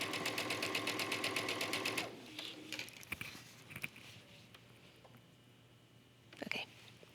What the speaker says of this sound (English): I'm just going to stitch, allowing that fabric to feed, and I'm using both hands to move the fabric around